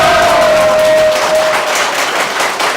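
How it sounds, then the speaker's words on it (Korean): A rain-soaked Saturday-evening crowd of thousands of political supporters roars and shouts together, a loud, continuous wall of cheering that holds steady throughout. "여러분들 이 함성으로 짐작하셨겠지만 지금 여기 수천 명 모여 있습니다"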